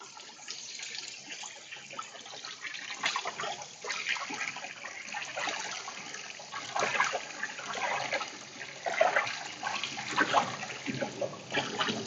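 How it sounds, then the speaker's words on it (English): Tap water runs steadily into a sink as cooked ramen noodles for tsukemen dipping noodles are rinsed and chilled, a continuous splashing hiss with shifting gurgles as the noodles are handled under the stream. "going to wash and chill the noodles"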